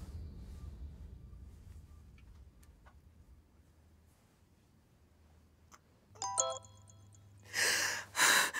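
A telephone rings with a short run of electronic tones, then louder bursts of noise, after a quiet stretch with faint ticking.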